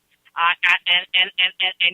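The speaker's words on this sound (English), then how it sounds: "I hear phones" Seven evenly spaced electronic telephone tones sound one after another, close and clear, each with the same short buzzing pattern over silence.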